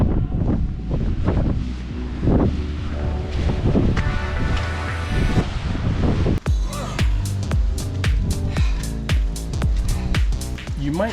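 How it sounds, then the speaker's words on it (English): Wind of about 15 mph buffeting the microphone on Grandfather Mountain, gusting and roaring loudly throughout, with sharper knocks and rattles in the latter half and no clear speech. "So this is only 15-mile-an-hour wind or so right now."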